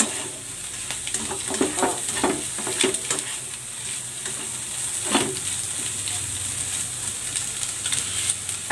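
Sliced white part of onion leeks frying and being stirred in a pot, with a steady bright sizzle and scattered scraping clicks of stirring over about nine seconds, close and moderately loud.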